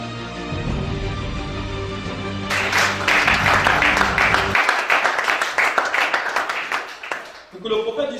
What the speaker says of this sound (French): Acclame le chacun.